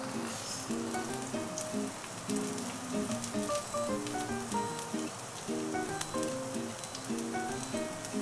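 Food fries in a pan as a steady, crackling sizzle that runs close and unbroken, with soft music playing underneath and no one talking.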